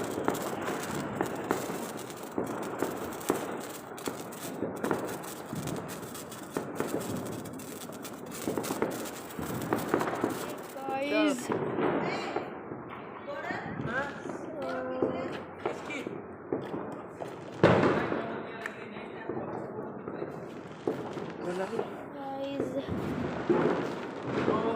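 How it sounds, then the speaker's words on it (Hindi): A Diwali bullet bomb firecracker goes off outdoors with a sharp, loud blast amid crackling festival noise, while people talk nearby before and after the bang. "ये बुलेट बम है। ये था धमाका।"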